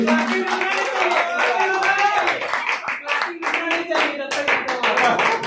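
Audience applause at the opening ceremony of a computer coaching class in Hazaribagh, dense sustained clapping from many hands, loud and continuous throughout.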